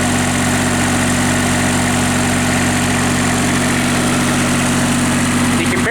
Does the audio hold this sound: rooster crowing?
no